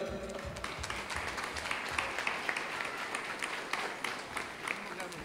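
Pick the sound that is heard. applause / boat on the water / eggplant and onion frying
applause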